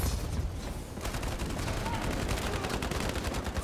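Rapid automatic gunfire from a gun in Modern Warfare 2 crackles in dense, continuous bursts, loud and close, running steadily for several seconds after a brief lull at the start.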